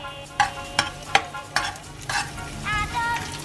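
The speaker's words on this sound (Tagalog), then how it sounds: "Lutuin natin yung garlic ngayon sa maging" Garlic sautéing in hot oil in a pan while cooking Filipino green papaya stir-fry, heard as a steady sizzle punctuated by regular utensil scrapes and clinks, close and fairly loud, without speech.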